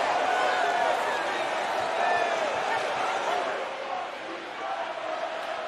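A packed college football stadium crowd roars loudly and continuously during a Clemson versus Pittsburgh game, a dense sustained wall of noise with a play-by-play voice talking over it.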